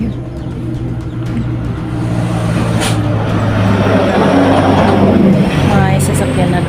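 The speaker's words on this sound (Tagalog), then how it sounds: "May sasakyan na dumadaan." A road vehicle rolls past, a steady engine rumble that swells toward the end, with a brief higher whine near the middle and faint birds in the background.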